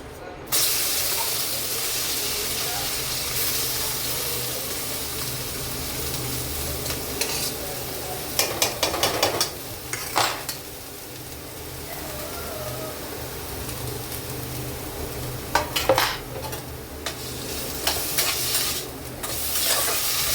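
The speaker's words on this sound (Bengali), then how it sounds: "এবার গাজরটা ঘি দিয়ে ভালো করে আমি ভেজে নেব" Grated carrot frying in hot ghee in a kadai gives a steady close sizzle and hiss throughout. Occasional louder bursts come from stirring and scraping in the pan.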